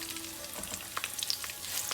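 Crushed garlic and dry red chilies fry in hot oil for an Andhra-style banana fry, giving a close, steady crackling sizzle with a few sharper pops and no voices.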